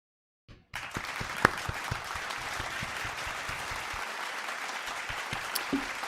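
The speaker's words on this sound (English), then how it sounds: "Can we give a little round of applause to the producers, guys?" After a brief quiet start, a small group bursts into sustained clapping for the producers of a talk show, steady and fairly close, with a few sharper claps and a faint voice near the end.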